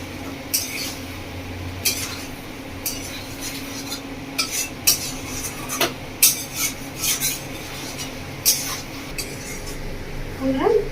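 Spoon scraping and stirring potatoes with chicken curry in a metal pan, village style, with repeated metallic scrapes and clinks in an irregular rhythm over a low steady sizzle, close and moderately loud.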